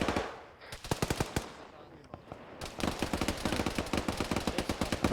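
Automatic gunfire in the video game Arma 3, sustained bursts fired into a building, with rapid sharp cracks in fast runs that pause briefly and then resume louder and denser.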